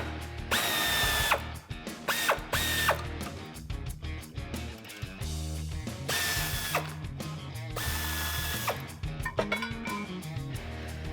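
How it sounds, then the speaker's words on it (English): A ratchet and power tool remove 15 mm bolts from the frame of a 2007–2013 Silverado 1500, close and loud, with bursts of whirring alternating with rapid ratchet clicking and no talk. "Grab your 15 millimeter socket and go ahead and get them out."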